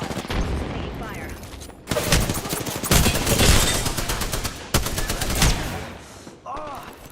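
Gunfire in the video game Apex Legends, loud bursts of rapid automatic fire in several volleys separated by brief gaps, with a voice briefly heard between shots.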